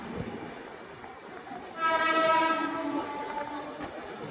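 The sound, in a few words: Mumbai local train passing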